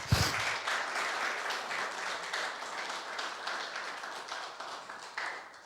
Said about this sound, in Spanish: Pégale un aplauso al Señor, por favor.